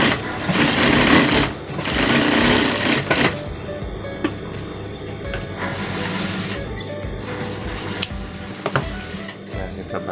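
A sewing machine runs in rapid, steady stitching bursts while sewing the front pocket of a parka jacket, loud and close, with a brief pause and some clicks between runs.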